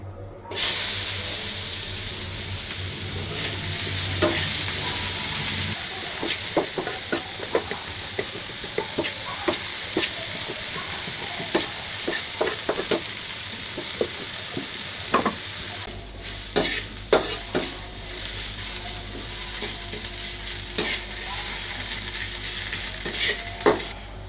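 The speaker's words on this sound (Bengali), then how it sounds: "মাছের তেলে এখন পেঁয়াজ কুচি দিয়ে দেব।" Chopped onion sizzles steadily in hot oil left from frying rohu fish, with frequent scraping clicks of a spatula stirring the pan; close and continuous, with no talking.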